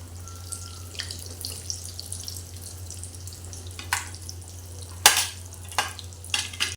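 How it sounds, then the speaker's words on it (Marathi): Fasting-style potato vadas fry in oil over a low flame, making a soft, steady hiss over a low hum, broken by a few sharper spatters and utensil clinks. "हे बघूया मंद आचेवर तळून घेऊया आपण वडे आपले"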